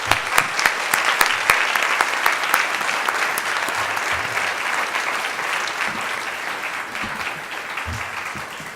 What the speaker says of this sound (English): ask you all to join me in thanking and applauding all of our panelists